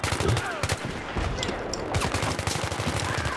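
Rapid bursts of gunfire from a Battlefield 3 firefight ring out steadily throughout, dense overlapping shots with explosive low thumps underneath and no voices.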